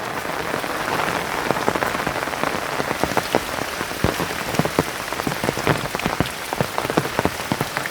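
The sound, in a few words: rain falling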